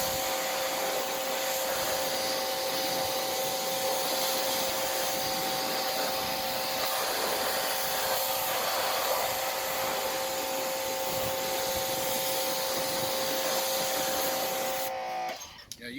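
Water sprays steadily over a ceramic coated car wheel as it is rinsed, a continuous close hiss with a faint motor hum, cutting off abruptly at the end.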